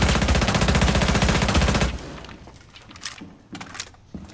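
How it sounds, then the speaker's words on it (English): Rapid automatic gunfire in a Rainbow Six Siege match, a loud sustained burst of fast shots that stops abruptly, followed by a few scattered thuds and single impacts. "Look out, he's shooting at you!"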